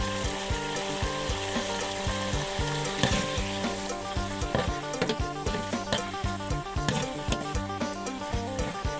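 Sago palm weevil larvae fry in hot oil with a steady, crackling sizzle throughout, punctuated by periodic scraping and stirring knocks in a rhythmic pattern, close and clear with no talk.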